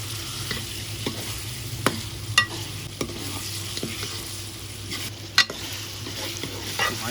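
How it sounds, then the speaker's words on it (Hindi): Ginger garlic paste sizzling and frying in a pot while being stirred for aloo gosht, a soft steady hiss with occasional scrapes and clinks of the spoon against the metal, close and fairly quiet. "अदरक लहसुन की भी बहुत ही ज़बरदस्त सी भुनाई कर लेंगे हम"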